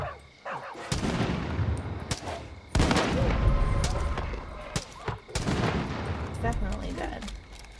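Sniper rifle fire in a multiplayer video game: sharp, loud shots crack out around one, three and five seconds, each trailing into a busy spread of game noise and echoing impacts.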